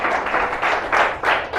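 A church congregation claps together to praise the Lord, in rhythmic bursts that swell and ease about every third of a second, loud and close, with no voices on top.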